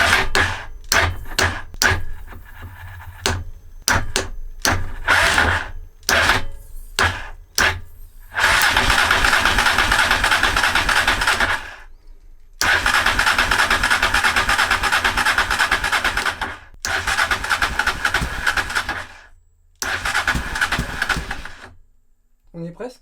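A Honda Transalp motorcycle is cranked repeatedly with the starter, short bursts giving way to long sustained cranking and sputtering runs, loud and close, with brief pauses between attempts.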